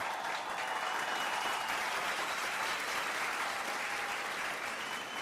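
Steady, dense applause from an audience at a book-cover unveiling ceremony, sustained and even throughout with no breaks and no voices on top.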